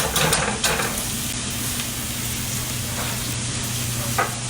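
Shrimp and grits cook in a pan with a steady close sizzle and frying hiss, plus an occasional stir or scrape, and no one speaks.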